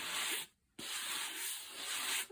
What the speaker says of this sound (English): there's a tiny fibre ridge there, as I mentioned before, so we just gently rub that out there.